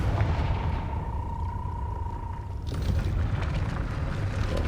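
A Confringo explosion spell goes off in the video game Hogwarts Legacy, a deep rumbling boom with a sustained tonal hum that gives way to a rougher crackling burst partway through, moderately loud, with no speech.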